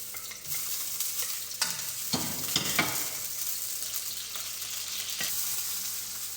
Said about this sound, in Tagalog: Gawin natin kasi mainit na yung ating kawali. Maglagay tayo ng mantika. Ayan, uyas kasi mainit na siya.